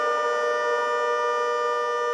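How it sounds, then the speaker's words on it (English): A civil defense style siren sound effect plays on a radio show, a steady, loud, sustained wail with layered tones holding alone without talk. "When you hear that siren, the first caller wins a pair of Cane Shades"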